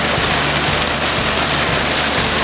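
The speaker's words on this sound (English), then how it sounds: "over top of this all the hail that's going on and the rain" A heavy hail and rain storm pours down outside, a dense, loud, steady drumming of impacts with no pauses and no voices.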